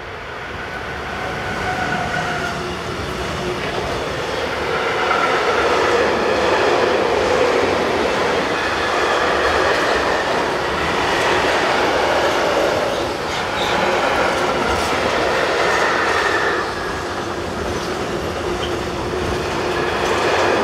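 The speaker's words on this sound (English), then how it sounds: "The 185184 heads towards the camera with a freight from Hagen-Warhalle to Gremberg." Class 185 electric locomotive hauling a freight train past on a line in Germany, a long loud rumble of wagons with rhythmic wheel clatter and squeal, swelling as it nears and rolling on steadily.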